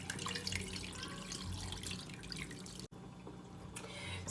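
Water drained off soaked achicha, made from pigeon peas, in a soft irregular trickle and dripping that stops abruptly, then resumes faintly, close by and without speech.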